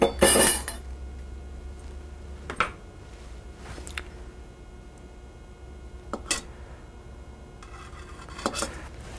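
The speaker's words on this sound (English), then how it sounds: "So let me next start straining my, or skimming the fat off my sauce" A metal spoon skims fat off duck sauce in a cooking pot, with a few scattered clinks and scrapes against the rim over a quiet kitchen background.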